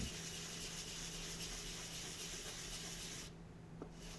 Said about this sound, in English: it takes a couple of rounds of sanding